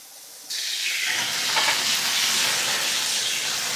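Vegetable oil hitting a hot pan bursts into a loud, steady sizzle and hiss that starts abruptly and holds without pause, close by.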